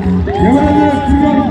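A crowd at a death diving event in Gjøvik, Norway, breaks into cheers and whoops, a loud, lively burst of many voices with an announcer's amplified voice talking over it.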